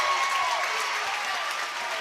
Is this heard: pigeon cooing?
no